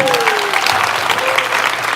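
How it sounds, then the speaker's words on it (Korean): An audience at a live jazz drum performance breaks into applause, a loud, dense wave of clapping with some crowd noise and a faint tone sliding underneath. "박수 부탁드립니다"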